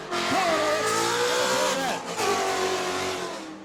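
Race cars roaring off at the green flag, a Mustang among them, engines revving hard and shifting pitch close by, with tires squealing and a voice calling over the noise.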